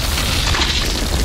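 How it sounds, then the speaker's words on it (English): An explosive detonates in a violent battle, a dense low rumbling boom that fills the whole moment, loud and close with no voices. "dropping explosives, one detonating underneath the chameleon's soft padded foot"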